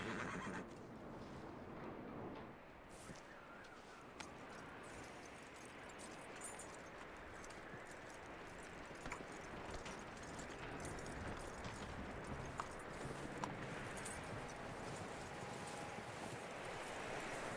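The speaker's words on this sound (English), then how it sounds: "That looks like a decent horse." A horse in the open-world western game Red Dead Redemption 2 whinnies over steady wind and ambient outdoor noise, with soft hoof clopping in a continuous, moderately loud bed of sound.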